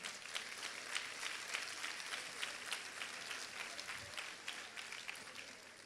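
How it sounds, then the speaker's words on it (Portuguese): Faint, distant applause rises from a congregation during a church service, a soft continuous patter of many hands clapping heard from afar. "Pode aplaudir ele."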